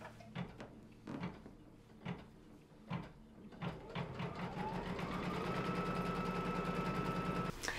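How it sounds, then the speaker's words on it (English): An embroidery machine quilts a zipper pouch, starting with a few separate thumps and clicks and then settling into a steady, continuous mechanical hum with rhythmic stitching. "it's gonna tack down the front of the zipper pouch all around, and it's going to quilt it right in the machine"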